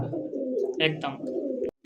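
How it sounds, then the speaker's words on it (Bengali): A pair of nun pigeons coo in soft, short bursts while someone talks over them, ending with a sharp click. "এই মুহূর্তে দেখতে পাচ্ছেন খুব সুন্দর একজোড়া নান কবুতর"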